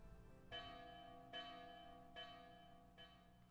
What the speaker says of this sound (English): That's the alarm bell from the sentry tower.